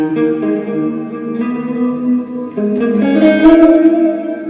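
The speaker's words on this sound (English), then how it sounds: "Turn on reverb." Sustained electric guitar chords through a Peavey 6505+ amplifier ring out with a washy reverb tail, notes blending and lingering, growing brighter and denser near the end.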